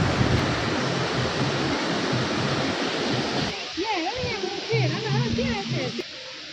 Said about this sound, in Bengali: কি সুন্দর একটা ঝর্ণার সাউন্ড হচ্ছে না, এই সাউন্ডটা খুব ভালো লাগে শুনতে।